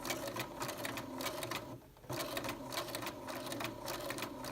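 A domestic sewing machine stitches a skirt seam in a fast, steady mechanical chatter that runs close and loud, with one brief pause near the middle before it starts up again.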